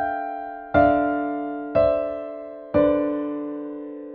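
Three separate struck chords of a short melody harmonized in harsh, dissonant seconds, each ringing out and slowly decaying before the next, clear and alone.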